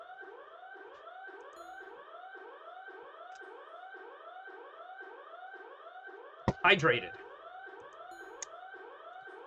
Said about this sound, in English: The alarms are deafening.